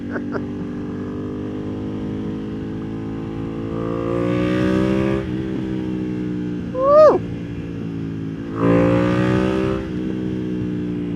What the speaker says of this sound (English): This has the full exhaust on it, so it sounds really good, as you guys can hear.